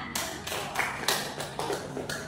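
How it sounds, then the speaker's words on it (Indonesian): Hands clap in a classroom in a short, uneven burst lasting a couple of seconds, moderately loud, with no talking over it. "Oke, tepuk tangan."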